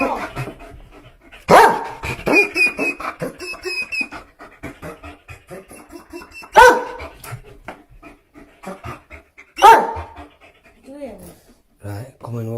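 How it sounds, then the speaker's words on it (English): A dog in a home barks three times in sharp, loud bursts caught on a home camera, with panting and people talking and reacting in between. "We should have listened to the dog and not gone downstairs."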